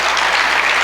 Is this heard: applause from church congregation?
yes